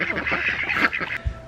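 Ducks being fed vegetable scraps honk and quack loudly in a close, overlapping burst, ending with a short low thud.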